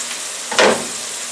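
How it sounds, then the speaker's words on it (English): Fresh corn kernels and tomatoes frying in a pan, a low steady sizzle with one sharper burst of hissing as the food is stirred or moved, then settling back to a quiet crackle. "Let's go back to our corn and tomatoes cooking."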